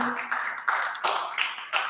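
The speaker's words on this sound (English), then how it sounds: "Give yourselves a round of applause for being here today." A town hall audience applauds in a steady, dense wash of hand claps lasting a couple of seconds, close and fairly loud, with a few sharper bursts rising out of the crowd noise.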